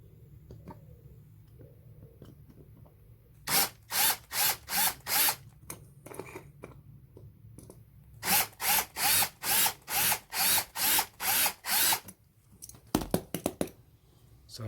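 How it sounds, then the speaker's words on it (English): Power drill boring out two rivets on a Matchbox Lesney gritting truck model, in two loud bursts of repeated short pulses separated by pauses, close and alone. "So now the next step is to drill out them two"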